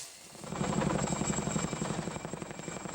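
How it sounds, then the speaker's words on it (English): A U.S. Army helicopter airlifts an encased dinosaur skeleton out of a ravine, its rotor beating in a steady, loud rhythmic thump with a constant whine above, building slightly after the first half second and holding throughout. "A U.S. Army helicopter was sent in to airlift the remains out of the ravine."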